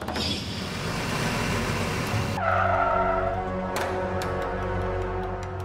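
A car brakes to a sudden stop on a deserted forest road, its tires briefly squealing over a steady engine and road rumble before the noise drops to a quieter idle.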